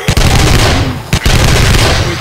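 Several players shooting zombies during a horde in a video game, giving dense, loud, rapid gunfire with overlapping bursts and a couple of short gaps, close and heavy throughout.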